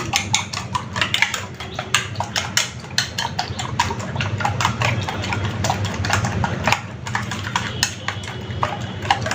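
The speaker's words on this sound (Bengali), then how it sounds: "আমি ডিমটাকে একটু ফেটিয়ে নিচ্ছি" Eggs whisked in a bowl for frying, a rapid run of light clinking taps of utensil against the bowl, close and steady, over a low hum from a stove heating oil in a pan.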